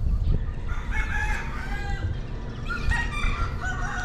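A rooster crows loudly nearby, its call rising and stretching out, with other fowl clucking and calling in the background.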